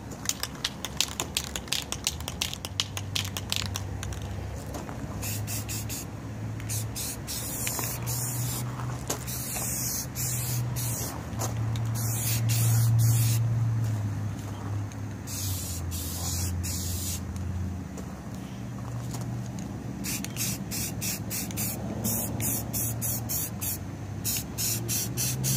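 Rust-Oleum spray paint hissing from an aerosol can onto a camper water heater cover, a steady close spray in repeated bursts and passes with brief gaps, alone without talk.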